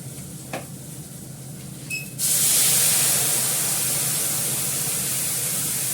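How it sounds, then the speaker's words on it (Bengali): Hot water poured into a pan of washed potatoes, a sudden loud, steady rushing hiss that starts about a third of the way in and holds to the end over a quiet background. "এবার গরম জল দিয়ে দেবো।"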